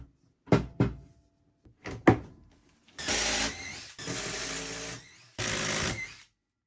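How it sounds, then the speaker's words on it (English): A pocket-hole drill bores into wood for a box base in short loud whirring bursts, each cut off sharply and set between knocks and clunks as the workpiece is handled. "go ahead and make some pocket holes."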